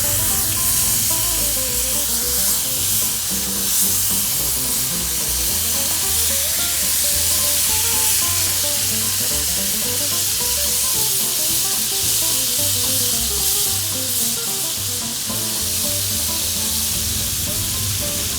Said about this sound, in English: the olive oil that they've been marinating in is searing around the outside of them as I'm placing them